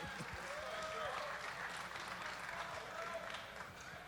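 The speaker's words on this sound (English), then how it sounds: "round of applause for that" A live audience at a sports card expo in Toronto applauds, a steady wash of clapping held at a moderate distance under crowd murmur, with some talk mixed in.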